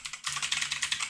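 Rapid typing on a mechanical keyboard with blue switches, a close, crisp run of clicky keystrokes after a brief pause, evenly paced and quiet.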